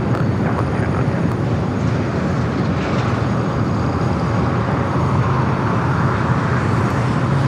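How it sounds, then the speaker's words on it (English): Boeing 777 airliner starting its takeoff roll on the runway at LAX, a loud continuous broadband jet roar that stays steady and unbroken throughout, heard from a distance with no talk. "Got that 777 now rolling down, heading to Newark."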